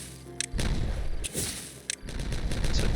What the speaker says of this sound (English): Let's detonate all this.